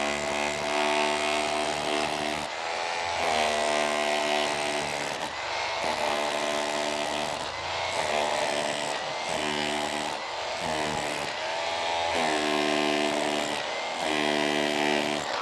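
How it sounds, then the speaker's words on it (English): A power hammer chisel knocks a thrown-on top coat off a bad exterior stucco patch, giving a loud, rattling hammering in repeated runs of a couple of seconds separated by brief pauses, with no talking. "Put it on hammer chisel."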